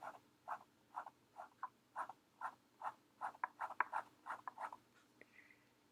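An extra-small pen nib scratches across paper while drawing faces, a run of about twenty short, close scratchy strokes in a quick uneven rhythm, quiet and alone in a still room.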